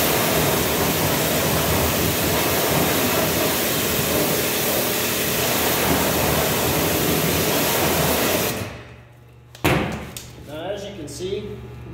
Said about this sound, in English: I'll just go ahead and rinse this off real quick